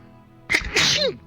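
A single loud, sharp sneeze bursts out close by, a quick intake followed by an explosive burst, alone with no talk around it.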